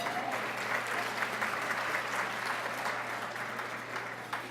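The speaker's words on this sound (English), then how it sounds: "Give him a round of applause." Steady crowd applause fills the room at a Santa Monica women's day breakfast, even and continuous throughout, slowly tapering at the end.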